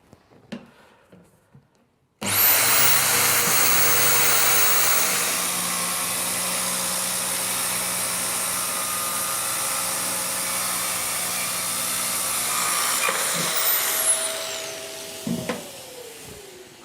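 An Exact 14 mini saw cuts through plastic and fiberglass with a loud, steady, high-pitched whine and grinding hiss. It starts abruptly, runs for about twelve seconds and then winds down.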